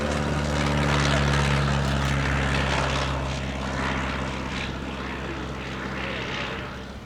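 A Piper L-4 light aircraft flies past at a military air show at Old Warden, its propeller engine droning steadily and loudly for the whole stretch with a low, sustained hum and broadband roar.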